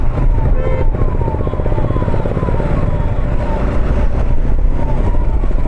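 A wailing siren sweeps repeatedly over heavy, loud traffic rumble, close by and continuous.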